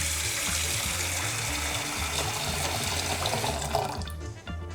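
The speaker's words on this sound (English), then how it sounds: "When you use a skillet, you need to fill up your bottom part with water." Steady rushing water pours from a tap, filling the bottom part of a skillet with a continuous gushing splash that tapers off near the end.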